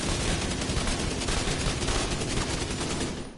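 Continuous AK rifle fire at a shooting range in The Division 2, loud and sustained rapid automatic bursts filling the whole stretch, tapering slightly at the end.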